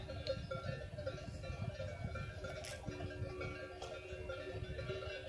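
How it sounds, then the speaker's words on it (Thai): Cowbells clank intermittently from grazing cattle on a Swiss alpine pasture, faint and distant over a quiet outdoor background. "เสียงกระดิ่งวัว"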